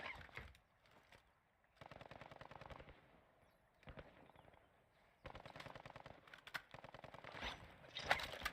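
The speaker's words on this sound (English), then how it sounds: "There's shots near me" Distant gunshots in the video game Call of Duty DMZ, with repeated bursts of automatic fire and single pops echoing from afar, coming in clusters separated by short quiet gaps.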